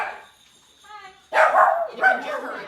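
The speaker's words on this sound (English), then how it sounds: "You can hear her adorable little dog barking." A small Chihuahua-pug mix dog barks in sharp, high yips, a couple of loud close barks after a faint whine, with background talk at a casual gathering.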